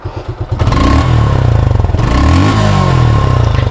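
A 2023 Suzuki Gixxer motorcycle engine revs up close, its throttle climbing and falling in repeated surges over a steady, loud idle rumble.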